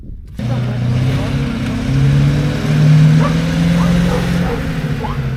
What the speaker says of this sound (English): wheels are spinning on the back of the truck already